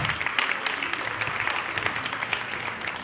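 Wedding guests clap together in a steady, dense round of applause that fills the room at moderate volume and holds level throughout, with no voices standing out.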